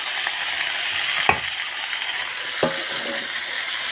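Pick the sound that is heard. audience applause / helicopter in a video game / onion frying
onion frying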